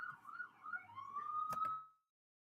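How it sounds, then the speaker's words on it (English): A faint wailing siren, rising and falling in pitch before holding steady, with a couple of sharp knocks near the end as it cuts off. "I muted it because of the sirens"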